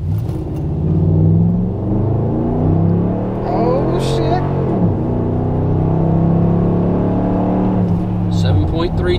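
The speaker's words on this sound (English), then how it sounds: "we're gonna try the zero to 60 test" A 2012 Ram 1500 4x4 crew cab pickup with a Diablo performance tune and MDS turned off accelerates hard through a zero to 60 run, its engine roaring steadily near and loud with rising pitch, and voices talking over it.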